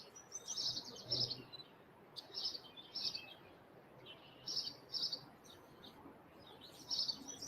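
A nuthatch in a backyard gives repeated short, high chirps in bursts of three or four, spaced a second or two apart, over a soft steady outdoor hiss with faint insect-like noise.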